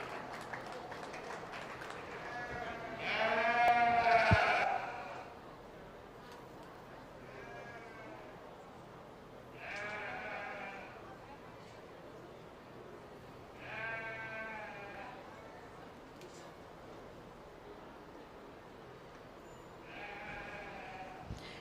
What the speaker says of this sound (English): Exhibiting our champion purebred ewe was Megan Deckers.